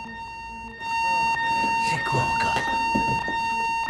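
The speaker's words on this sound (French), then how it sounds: "Le sac que tu as amené va déclencher l'alarme et ils vont devoir évacuer tout le bâtiment." A building alarm rings with a steady electronic tone in a dubbed thriller scene, continuing loud and unbroken while a voice speaks and other movement noises clatter over it.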